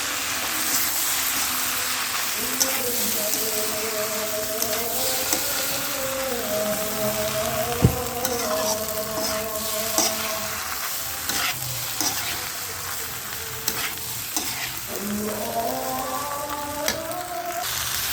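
Pasta is stirred as it fries in a chili and tomato sauce, giving a steady loud sizzle with the scrape and clatter of a spoon against the pan continuing throughout, close by.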